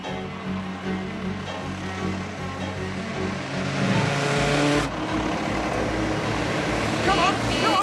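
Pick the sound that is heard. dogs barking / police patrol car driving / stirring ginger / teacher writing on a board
police patrol car driving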